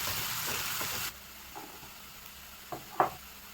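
Cumin and onion hitting hot oil in a pan, a loud bright sizzle for the first second that suddenly drops to a quieter steady hiss, followed by a few soft stirring knocks.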